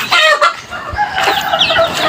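Hungry backyard chickens waiting for wet feed cluck and squawk loudly and close by in overlapping calls, with a rooster-like crow mixed in.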